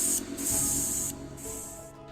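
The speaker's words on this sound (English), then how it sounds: "Then I spray a mix of white primer and a black primer together" Two hissing bursts from a can of spray primer, close up, separated by a short pause, with a faint hum underneath.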